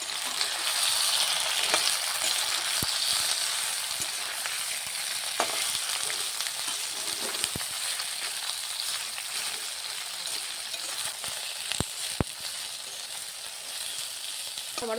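Okra fries in hot oil in a pan for a Bengali-style bhindi curry, giving a steady, even sizzle with a few sharp clicks from stirring.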